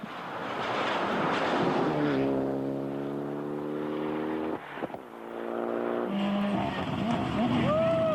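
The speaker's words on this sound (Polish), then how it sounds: "Pier Giorgio Bedini w typowo włoskim stylu jechał do mety po zwycięstwo w klasyfikacji grupy N." A Group N rally car at the 1999 Albania Rally drives hard toward the finish, its loud engine holding steady pitch, then dropping off during a gear change before revving up again. A commentator's voice sits faintly underneath.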